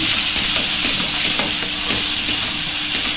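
Grated coconut roasting in a hot pan with vegetable masala, a loud continuous sizzle and hiss with intermittent stirring scrapes, no talking.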